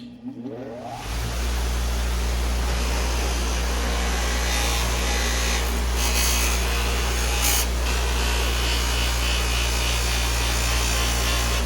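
VEVOR 8-inch bench buffer polisher with a 3/4 HP, 3600 RPM motor switching on and spinning up quickly, then holding a loud, steady motor hum and whine close by, with no talking.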